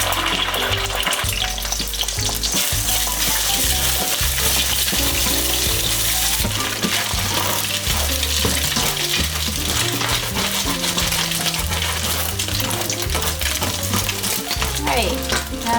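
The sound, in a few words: eggs frying in very hot oil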